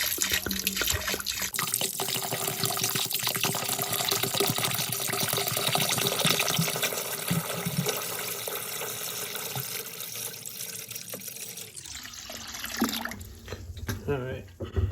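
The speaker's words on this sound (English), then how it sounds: "So we're just gonna pour some in." Water pours steadily into honey in a container to thin it, a continuous close splashing wash that runs for most of the stretch before stopping, with a person talking over it.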